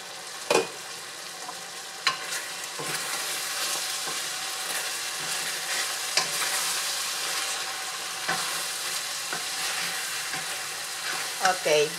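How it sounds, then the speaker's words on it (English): Celery stir-fried in a hot pan for pork and vegetable rice noodle pansit, a steady loud sizzle broken by several sharp scrapes and knocks of the utensil, with no voices. "I'm going to give it a stir"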